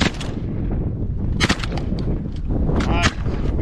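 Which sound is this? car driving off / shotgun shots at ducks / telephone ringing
shotgun shots at ducks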